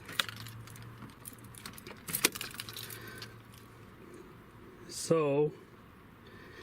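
Car keys jangle at the ignition of a 2004 Toyota Sequoia, with a few faint metallic clinks early, a brief sharp rattle, then a louder jingle near the end, under quiet speech.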